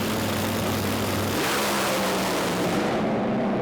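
A top fuel nitro dragster on a Goodyear slick roars down Sydney Dragway, its engine a loud, dense continuous blare with a shifting low drone partway through as tyre shake sets in.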